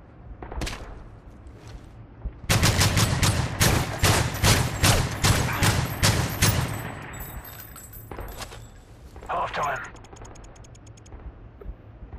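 Gunfire in a Fortnite match, a rapid string of loud, close shots lasting a few seconds, followed by scattered single shots and game sounds.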